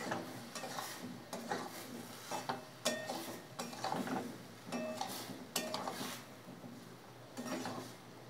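Boiled potatoes tossed into a pan for a vegetarian aloo dum, with steady sizzling frying and repeated scrapes and clinks of a spoon stirring against the pan, close and alone.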